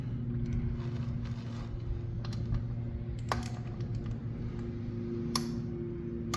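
A torque wrench clicks sharply several times, single distinct snaps scattered over a quiet hum, as a bolt on a 2025 Kawasaki KX250 dirt bike is tightened.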